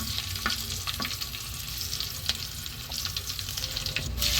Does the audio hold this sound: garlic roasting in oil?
yes